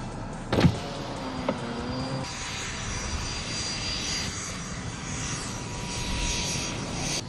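A BAE Hawk fighter jet at the BAE Warton airstrip in Lancashire, a broad roaring jet noise heard from a distance that holds steady and swells slightly, after a brief mechanical whine nearby, with no talk.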